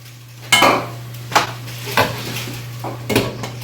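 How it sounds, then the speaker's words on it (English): A utensil stirs wilting greens in a pot, with four distinct scraping, clattering strokes against the pot over a steady background hum. "We're going to give that one more stir just to incorporate everything."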